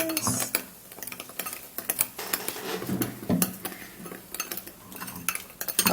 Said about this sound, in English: you stir really well, just like this